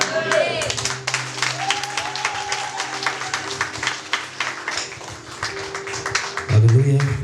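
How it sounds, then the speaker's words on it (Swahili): A church congregation clapping their hands: a fast, rhythmic patter of many hands running throughout, with voices and sustained tones underneath and a louder swell near the end. "Hebu mchapie tena Bwana makofi."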